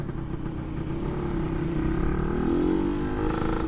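Aftermarket FJP motorcycle exhaust at low RPM, a close, rough engine drone with a slight crackle that rises a little in pitch midway, with no talk over it.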